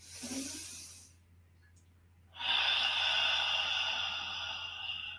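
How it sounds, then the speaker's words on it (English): A slow, audible breath drawn in during a leg stretch in a shiatsu class, soft at first then a long airy inhale and exhale close to the mic. "Breathing in."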